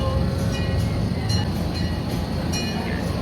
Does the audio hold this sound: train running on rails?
yes